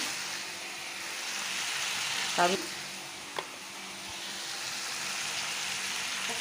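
Bitter gourd and onions with turmeric frying in a pan, a soft continuous sizzle with a brief clatter of stirring partway through.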